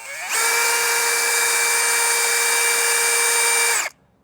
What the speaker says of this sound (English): I'm going to make some drill marks.